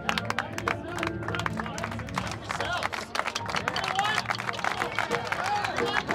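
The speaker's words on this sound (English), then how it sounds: "The crowd goes wild." Crowd at the WGI Finals, Rhythm X 2022 percussion event, cheering and clapping in a dense wash of applause and voices, loud and sustained throughout.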